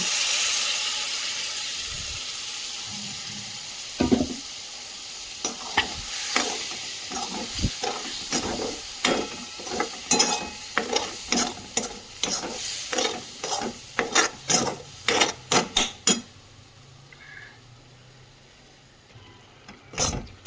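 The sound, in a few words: ground peanuts and chillies being stirred in a pan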